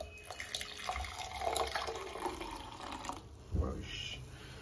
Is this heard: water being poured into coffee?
yes